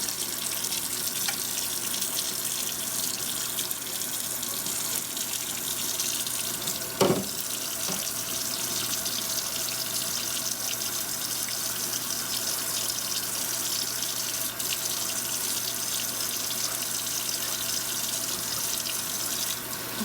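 Hot water runs steadily from a kitchen faucet for a long stretch, a constant hiss with a brief clunk partway through, no voices.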